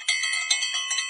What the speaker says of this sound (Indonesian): Bel berbunyi menandakan jam pelajaran pun dimulai.